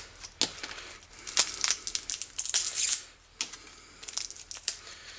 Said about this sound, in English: Peel off this cardboard, throw that in with your number two copper.